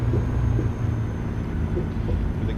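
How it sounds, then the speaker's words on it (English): Detroit Diesel Series 60 engine of a Kenworth W900 in a truck simulator game, a steady deep low rumble idling or cruising continuously, loud and close with no talk over it. "Let's listen to that Detroit diesel"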